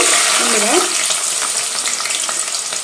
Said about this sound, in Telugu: ఇట్లా రౌండ్ కట్ చేసుకున్న దొండకాయలు కొద్దిగా ఆయిల్ ఎక్కువ వేసుకొని అందులో ఫ్రై చేసుకోవాలి